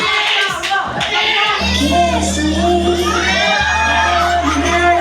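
A crowd at a year-end party mini concert shouts and cheers loudly and continuously, with children's voices and whoops mixed in over music.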